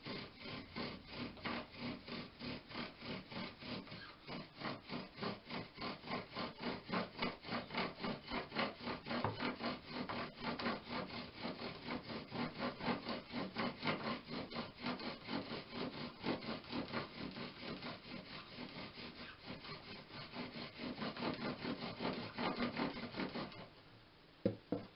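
A bow drill spindle rubs steadily back and forth against a wood board, a rhythmic sawing friction stroke repeating close and loud for the whole stretch, ending with a couple of sharp knocks.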